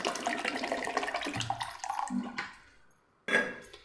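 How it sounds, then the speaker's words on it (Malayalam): Ice water and lemon juice are poured into a mixer jar in a kitchen, a close, splashing, gurgling stream that tapers off and falls quiet, followed by one short splash. "ഞാനിപ്പോൾ ഇവിടെ ഐസ് വാട്ടർ തന്നെ എടുത്തിട്ടുള്ളത് അതും കൂടെ ഒഴിക്കാം"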